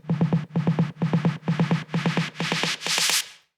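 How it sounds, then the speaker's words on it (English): Repeated snare hits in an EDM outro come in tight clusters of quick strikes, about seven groups in a steady rhythm, growing brighter and more washed out toward the end before cutting off. "I repeated these snares over here and they sound like this."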